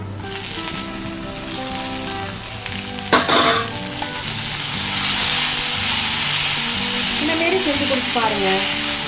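Cut, washed karpooravalli (Indian borage) leaves drop into a hot pan of oil. A loud, steady sizzle swells and holds, with brief stirring noises and a faint voice in the background.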